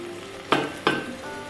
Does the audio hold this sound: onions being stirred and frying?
yes